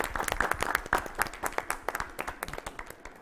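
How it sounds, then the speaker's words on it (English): An audience at a startup showcase program claps steadily, dense overlapping hand claps forming a full round of applause for roughly three seconds with no voices over it. "A round of applause for all of you and all the startups who are present here."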